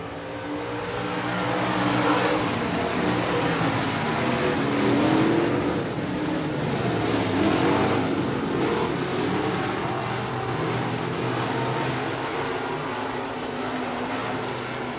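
Stock cars race at Buena Vista Raceway, a continuous engine roar swelling and fading as the pack circles the track, heard from a distance without talk.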